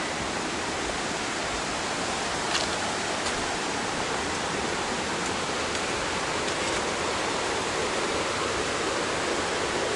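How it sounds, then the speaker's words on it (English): Steady broadband rush of water flowing in a stream off to one side along a trail near Valentine, Nebraska, continuous and fairly loud throughout with no talk. "I hear water off to our right."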